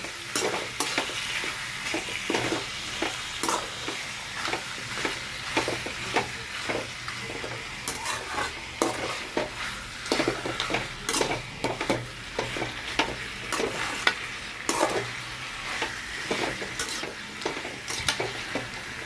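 Meat curry with turmeric sizzles and fries in a pan while a spoon stirs it, giving a continuous close hiss broken by frequent scraping and clinking strokes that repeat all through.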